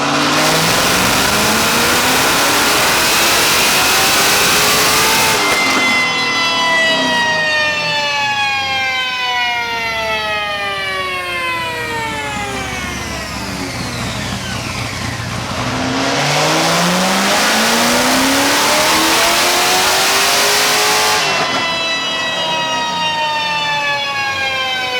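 A C6 Corvette ZR1 nicknamed Flamethrower roars on a dyno, its engine sweeping up through the revs twice in long rising wails with a lull between, very loud and close with no voices.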